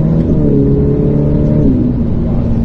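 A Ferrari F8 Tributo on the Pont-l'Évêque race circuit accelerates hard, its engine a loud, close, continuous roar that holds steady without any talk.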